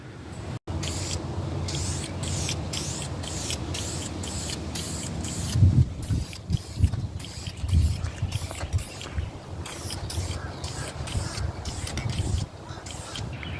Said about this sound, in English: you spray it on, and obviously the more coats you put on it, the darker it gets.